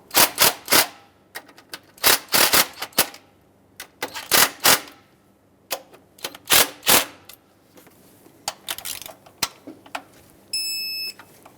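Bolts on a 2008-2010 Ford F250 Super Duty 5.4L V8 are snugged up with a ratchet, sharp bursts of clicking in quick runs separated by short pauses, loud and close, with a few faint beeps near the end.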